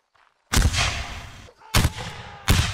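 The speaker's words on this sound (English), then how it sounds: "Take aim and fire." Musket volleys from a reenactment regiment, three loud ragged blasts a second or so apart, each crackling burst trailing off in echo, close by with no talk over them.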